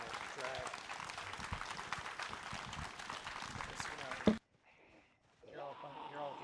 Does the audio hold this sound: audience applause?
yes